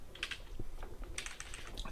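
Quick, light keystrokes on a computer keyboard while entering a command in a terminal, a short close burst of soft clicks at a low level.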